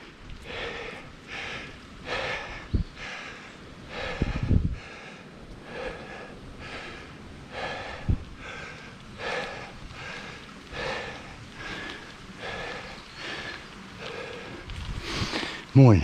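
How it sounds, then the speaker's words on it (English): A rider on a mountain bike climbing uphill breathes heavily, with rhythmic loud exhales and gasps repeating roughly every second, close to the microphone, with occasional faint speech. "my breathing, you tell I'm going uphill"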